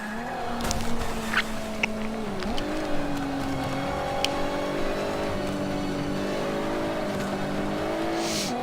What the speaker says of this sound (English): So this is the Nissan GTR.